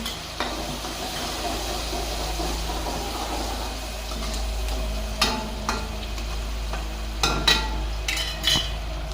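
Pasta being fried and stirred in a pan with asafoetida, giving a steady soft sizzle with a few sharper clinks and scrapes from stirring near the end.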